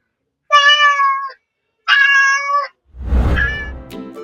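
A cat meows loudly up close, giving two drawn-out, clear meows, followed by a rougher, breathier yowl that trails off.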